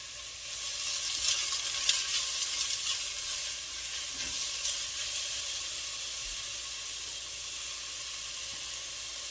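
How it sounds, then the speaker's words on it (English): Onions, peppers and garlic hit a hot pot for chili and hiss with a steady, bright sizzle, close and loud throughout, with a few soft stirring knocks and no speech. "I'm going to go ahead and get all these onions inside and peppers and all the garlic."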